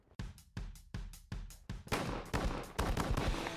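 Close, sharp blasts from a Benelli 12 gauge shotgun, about eight reports fired at a brisk, fairly even pace, the later ones overlapping with other shots nearby and outdoor echo.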